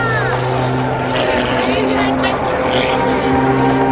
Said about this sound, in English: This aircraft that you see Sean flying is known as the Oracle Challenger